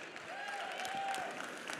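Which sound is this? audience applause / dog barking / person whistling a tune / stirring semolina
audience applause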